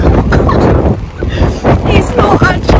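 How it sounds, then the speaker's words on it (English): Strong wind buffets the microphone in stormy, rainy weather, a loud continuous roar with gusting surges while a person speaks over it. "I hope you can hear me because it's very windy and rainy."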